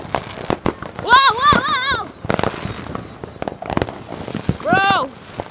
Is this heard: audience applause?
no